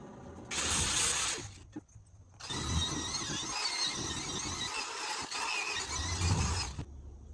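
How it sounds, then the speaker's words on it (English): A power grinder fitted with a sanding ball whines in a short burst, stops, then runs again in a long, harsh, abrasive grind against a cast iron skillet, close and steady. "I hook the grinder up and hit that one little spot"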